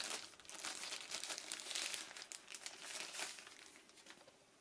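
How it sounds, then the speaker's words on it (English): Plastic packaging around a DJI remote control extension rod crinkles and crackles as it is opened by hand, a soft continuous rustle close by with no talking. "I'll just open up the plastic packaging around the remote control extension rod"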